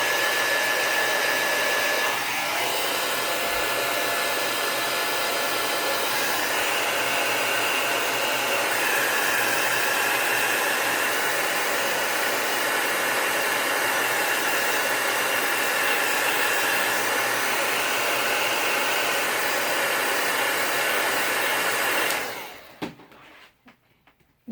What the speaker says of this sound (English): We're going to take our heat gun and we're going to heat that up.